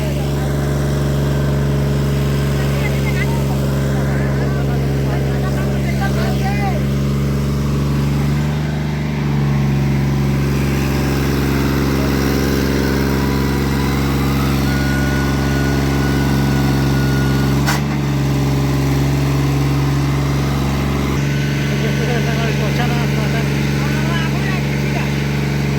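Tractor engine laboring while ploughing a farm field and stuck in the soil, a loud, steady low drone with strong harmonics running the whole time, briefly dipping a couple of times, with someone talking over it.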